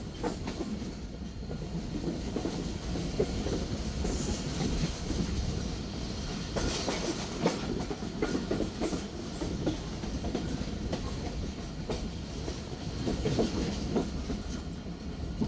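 The Rehman AC passenger train runs between Rohri and Hyderabad with a constant rumbling roar and rhythmic clickety-clack of wheels over rail joints, heard from inside the carriage without speech.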